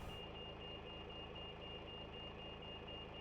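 Pushback truck in the X-Plane 11 flight simulator sounding a steady, continuous high reversing beep over a constant engine drone at low level, with no voices.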